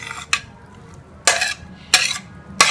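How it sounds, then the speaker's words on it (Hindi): A spoon clinks against a bowl in four sharp, separate strikes while yogurt is stirred together with potato, tomato, green chili, onion and cucumber for raita, with soft mixing sounds between. "इसको हम सारी चीज़ों को जो है वो अच्छी तरह से दही के साथ मिक्स कर लेंगे।"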